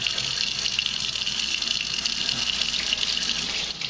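Water from a tap running steadily over salmon smoking racks being rinsed at a sink, an even, close gushing hiss that keeps going without a break before it drops off at the very end.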